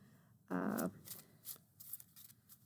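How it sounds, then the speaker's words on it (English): An oracle deck of cards is shuffled side to side in a single loud burst of riffling, followed by faint, scattered card rustles and handling sounds. "so the side-to-side shuffling is a little bit harder"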